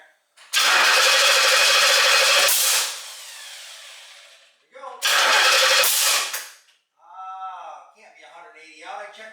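A 1968 Pontiac GTO engine cranks with no fuel in the carburetor: two loud, close bursts of whirring starter cranking that never catch, followed by someone talking.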